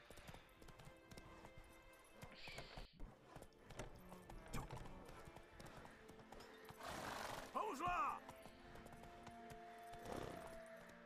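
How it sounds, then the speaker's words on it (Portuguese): Horse hooves clip-clop steadily while riding in the video game The Witcher 3, with a brief whinny and scattered game effects, and voices come and go over the top. "O cavalo aqui nesse jogo."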